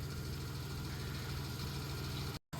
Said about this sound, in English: That engine runs so good.